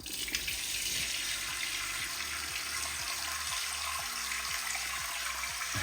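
A modern push-button toilet in a suburban Royal Oak, Detroit-area home flushes with a steady, rushing wash of water that runs for several seconds, moderately quiet and without voices.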